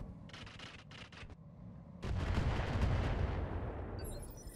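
Mech weapons fire in the video game RogueTech: an early burst of rapid clattering shots, then a loud sustained roar of heavy weapon fire and explosions that carries on for several seconds.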